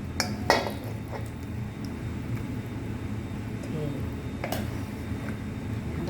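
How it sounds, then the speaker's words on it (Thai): Sago pumpkin dessert with coconut cream being scooped into bowls, with a few light clinks and taps of a spoon against dishes over a low steady room hum. "แล้วเราก็จะมาตักใส่เลยนะจ๊ะ"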